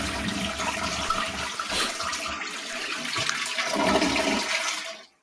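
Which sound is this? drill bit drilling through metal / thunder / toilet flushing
toilet flushing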